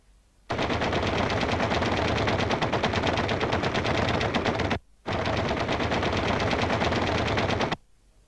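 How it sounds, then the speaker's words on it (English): Nose-mounted .50 caliber machine guns on a B-25 Mitchell bomber hammer out two long, loud, sustained bursts of rapid fire, separated by a brief gap. "An additional 4 50 caliber machine guns were mounted in the nose, providing the Mitchell with more forward firepower than many fighters."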